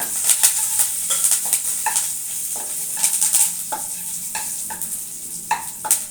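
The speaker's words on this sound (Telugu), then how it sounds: "ఎండుమిర్చి ముక్కలు, 5-6 క్రష్ చేసుకున్న వెల్లుల్లిపాయలు, కొంచెం కరివేపాకు వేసుకొని ఫ్రై చేసుకోవాలి." Dried red chilli pieces, crushed garlic and curry leaves fry in a little oil, giving a close sizzle broken by repeated scraping and stirring clinks of a spoon against the pan.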